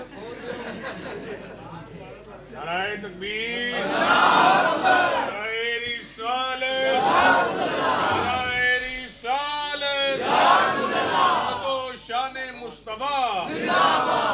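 A crowd at a religious gathering shouts a slogan in loud, repeated unison bursts, each call rising and falling in a steady rhythm, close and filling the space, with scattered voices and some chuckling between.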